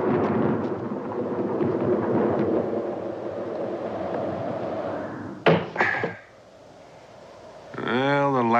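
A deep, rolling rumble of thunder builds and fades, followed by a sharp knock, a brief quiet, then a voice begins.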